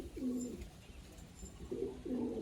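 Pigeons in a loft give low, rolling coos, with two clear calls near the start and end and a softer one in the middle, against quiet room noise and with no talk.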